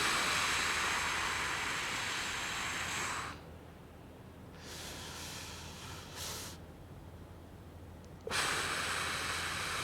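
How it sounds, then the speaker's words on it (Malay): Slow deep breathing during a breathing exercise: a long loud inhale-like rush, a quieter held stretch with softer breaths, then another strong rush of air, close and alone with no talking. "Deep breathing maknanya habis tu set kita buat lagi"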